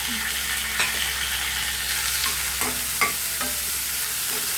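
Onion, green chilli, curry leaves and cashews fry in hot oil in a pan, a steady sizzle with occasional soft stirring knocks, close and alone.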